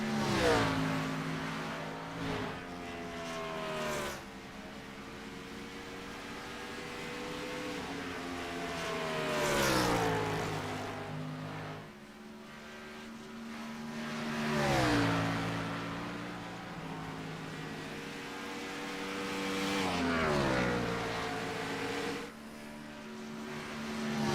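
Race car engines from a racing video game at Dover, a continuous layered drone of several cars with engine pitch rising and falling in long sweeps as cars accelerate and pass, steady and moderately loud throughout.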